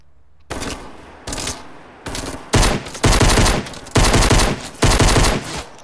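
Video game gunfire cracks out in seven loud, close bursts, the first few single shots and the later ones rapid automatic strings, each separated by brief gaps, with no talking.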